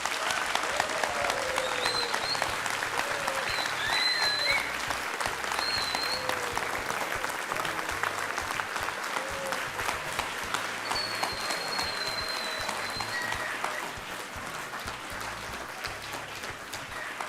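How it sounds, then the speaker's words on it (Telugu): An audience claps steadily to welcome Union Minister Hardeep Singh Puri onto a television courtroom-style talk show set, a continuous wash of applause with music tones faintly layered underneath. "అలాగే మీరు చప్పట్లు కొడుతూ ఉండండి"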